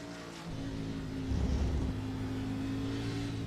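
From onboard a race car at speed at Circuit of the Americas, a steady engine drone with sustained harmonic tones, briefly swelling louder mid-clip.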